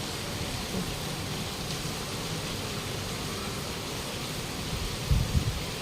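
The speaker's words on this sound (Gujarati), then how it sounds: "બહુ વરસાદ આવે છે." Heavy monsoon rain pours down outdoors as a steady, dense hiss, with a few soft thuds near the end and no voices.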